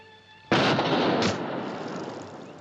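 A single loud gunshot in a 1959 western comedy, a sudden sharp blast after a quiet start, followed by a long fading echo and a brief second crack within the decay.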